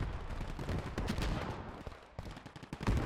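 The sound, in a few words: explosions and gunfire in video game battle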